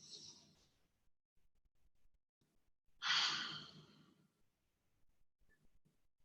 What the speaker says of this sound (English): make sure that you're really inhaling and expanding your belly as well, really filling up that whole tank with air